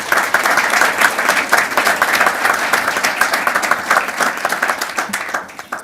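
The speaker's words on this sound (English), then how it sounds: "So, round of applause for Chief Hudson" Council meeting attendees clap for Fire Chief Greg Hudson, lively close applause with distinct individual claps in a room, sustained for several seconds before thinning out near the end.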